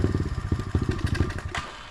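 SSR 125 automatic dirt bike engine running with a steady, rough low throb and rapid pulsing firing beats, close and loud throughout, with a brief higher rise near the end.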